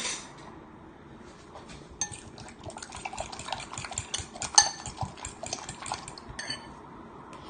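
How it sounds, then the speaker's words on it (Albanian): Ingredients for a spinach and cornmeal quiche are stirred together in a bowl, with soft scraping and wet swishing punctuated by light clinks of a utensil against the bowl. "i përzijmë së bashku."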